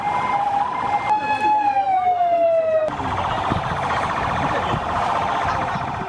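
A loud emergency siren wails nearby, sliding down in pitch, then switches to a rapid warbling yelp against background crowd noise.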